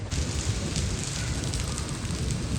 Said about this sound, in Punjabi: ਲੋ ਜੀ ਗੜੇ ਡਿੱਗਣ ਲੱਗ ਗਏ ਨੇ ਬਾਰਿਸ਼ ਦੇ ਨਾਲ